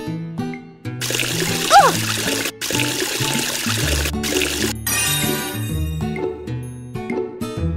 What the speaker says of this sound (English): Help wash their faces with water.